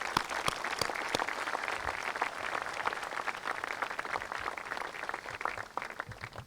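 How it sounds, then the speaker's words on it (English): An audience at the grand opening of a student-athlete performance center applauds the student athletes. Sharp individual claps blend into a moderately quiet, steady round of applause that lasts several seconds with no talk. "Let's give a big round of applause to our student athletes that are here."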